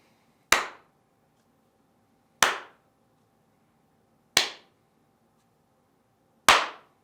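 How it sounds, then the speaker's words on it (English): Four sharp hand claps ring out alone at steady intervals of about two seconds, each a crisp, loud single strike that decays quickly into silence. "We're just gonna do a clap."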